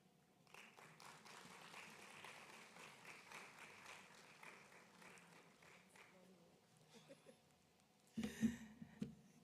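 An audience at a corporate talk event applauds to welcome a speaker, with soft, scattered clapping that gradually thins out, followed by a few louder bumps and a voice near the end.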